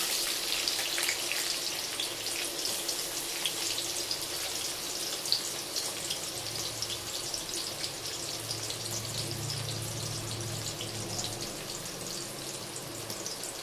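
Mustard seeds, shallots and onions frying in hot oil with cumin for an okra fry, giving a steady, even crackling sizzle with fine popping throughout and no talking.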